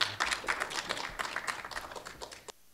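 An audience at the TPOSSCON 2006 open source conference applauds a speaker as he is introduced, a dense, steady crowd clapping that lasts about two and a half seconds and then stops abruptly.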